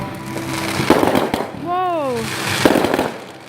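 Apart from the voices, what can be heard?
fireworks exploding on the Fourth of July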